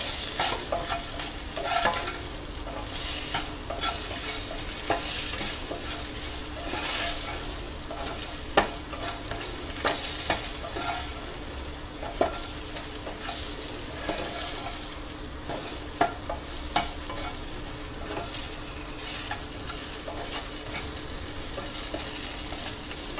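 Potatoes frying in a pan for a Navratri fasting dish, with a steady loud sizzle and occasional scraping stirs of a spoon against the pan, close and continuous with no talking.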